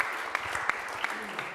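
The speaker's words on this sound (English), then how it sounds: "Give a hand of applause here." Audience applause at the Ljubljana Forum 2025 conference session: a steady wash of many hands clapping at moderate volume for about a second and a half, with a few sharper individual claps standing out.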